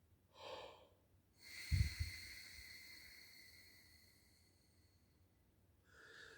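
Breath is pushed out through a trumpet mouthpiece used as a breathing tube. Soft airy gusts come close and quiet, with one longer relaxed exhale trailing away between shorter breaths.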